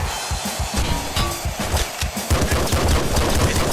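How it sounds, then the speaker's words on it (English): Rapid gunfire and explosive blasts from a grenade launcher in the video game Nuclear Throne, a dense loud run of repeated bursts with no pauses. "Grenade launcher!"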